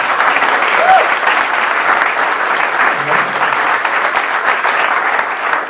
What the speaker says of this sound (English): somebody applauded me on the Violence Against Women Act